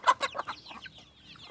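Chickens cluck in a quick burst of loud, close calls that fade into softer scattered clucks while the birds eat feed and leafy greens.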